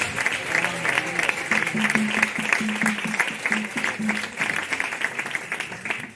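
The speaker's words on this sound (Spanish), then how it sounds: "Dar un fuerte aplauso a Dios, al Rey de Reyes, al Señor de Señores." A church congregation breaks into strong applause during a Spanish-language worship service, sustained clapping mixed with faint voices and a low tonal hum underneath.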